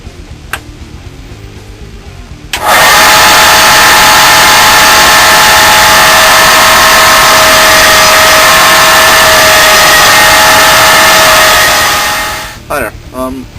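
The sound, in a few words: grinder grinding a custom knife blade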